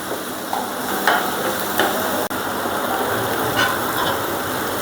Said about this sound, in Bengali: চিংড়ি মাছটা হালকা ভাজা হয়ে গেছে